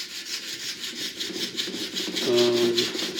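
A knife blade is hand sanded with 280 grit sandpaper after 120 and 220 grits, making rhythmic back-and-forth rasping strokes, close and fairly loud, in an even repeating pattern.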